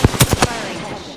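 A quick burst of four loud, close gunshots in the video game Apex Legends, evenly spaced and fired in rapid succession, followed by a fading echo.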